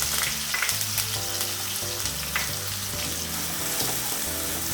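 Onion, garlic and ginger paste sizzles and fries in hot oil in a pan for palak paneer, a dense continuous crackle under steady background music.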